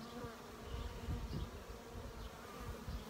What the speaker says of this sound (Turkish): Bir tane arı sokmaya çalışıyor da.